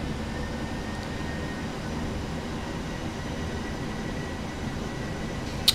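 Boeing 737NGX jet engines spooling up to takeoff thrust in a flight simulator, a steady broadband roar holding at an even level throughout, with a faint click near the end.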